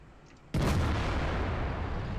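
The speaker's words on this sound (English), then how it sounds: "Oh yeah, artillery." Artillery strike in World of Tanks, with the VK 45.02 (P) Ausf. B on the field: a sudden loud blast after a quiet moment, followed by a sustained heavy rumble that keeps roaring for the rest of the moment.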